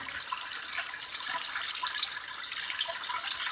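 Rainwater rushes steadily out through the overflow of a rain barrel, a close, continuous hissing gush with no break and no talk.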